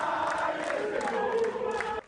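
Guarani football supporters cheer and chant outside the Brinco de Ouro da Princesa stadium as the team departs, a dense roaring crowd with sustained voices throughout.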